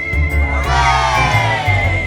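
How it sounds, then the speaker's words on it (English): A crowd of miners gives a big cheer for Thomas the tank engine, loud overlapping shouts and whoops rising together over a low rumble. "They thanked Thomas and gave him a big cheer"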